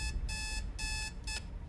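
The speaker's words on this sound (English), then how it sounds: "Set the alarm." An alarm clock in a motel video game rings in three short electronic bursts with brief gaps between them, fairly quiet and steady.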